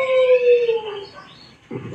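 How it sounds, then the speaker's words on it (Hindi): A recorded dog sound played back through an Alexa smart speaker: one drawn-out, falling howl-like cry, then a short rough burst at the end. "कुत्ते की आवाज।"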